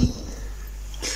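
A person coughs once, sharp and close, at the very start, followed by a quiet room with a faint hum and a brief soft noise near the end.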